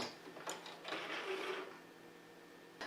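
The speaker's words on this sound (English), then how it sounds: "I'm just going slightly past it and doing a little back stitch" A home sewing machine runs a short back stitch on fabric, giving a brief, quiet mechanical whirr with soft clicking that rises and fades within a few seconds, heard alone.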